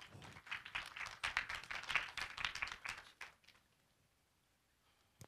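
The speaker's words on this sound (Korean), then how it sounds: "여러분 박수 부탁드리겠습니다" Applause from a small crowd at a Korean online journalism awards ceremony, a few seconds of brisk clapping that tapers off into near silence, ending with one faint clap.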